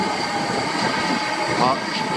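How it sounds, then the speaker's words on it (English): A train passes by outdoors, a steady broad rumble with faint rail squeal, fairly loud and continuous throughout with no voices. "sorry about that, it's the train going past, you can see."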